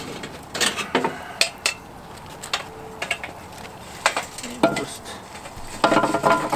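Hot charcoal coals tipped out for Dutch oven cooking, heard as a scattered run of sharp metallic clinks, clatters and scrapes spread over several seconds, close by, with a brief spoken word in between.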